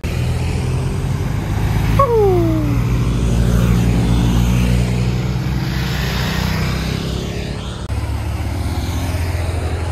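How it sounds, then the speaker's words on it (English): Police motorbikes roll through ahead of the opening stage of the 2021 Tour of Britain cycle race. Loud, continuous engine roar dominates the roadside, with a brief falling whine near the start. "The police bikes are starting to come through, which means the race is not far away right now."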